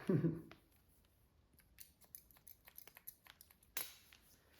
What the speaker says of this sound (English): Point cut, point cut, point cut.